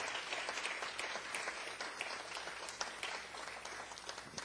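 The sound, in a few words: congregation applause in church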